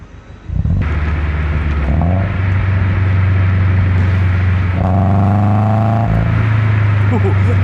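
A Subaru BRZ with Tomei UEL headers and an HKS exhaust starts and settles into a loud, deep, steady rumble close by, with a couple of rising revs over the idle drone.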